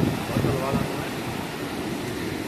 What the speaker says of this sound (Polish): fala idzie